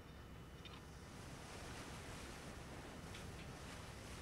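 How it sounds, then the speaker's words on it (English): Water splashing and surging in the video game Resident Evil 4, a broad continuous wash of noise like surf, with faint brief splashes and no talking. "This is their first splashes of water."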